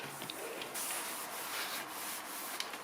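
A cloth wipes cleaner off the surface of a cooker hood, making a soft, continuous rubbing swish at close range with a few brief scuffs and squeaks.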